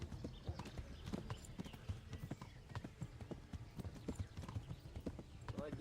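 Hooves clatter in a fast galloping rhythm from horses in Kingdom Come: Deliverance, with faint muffled background noise.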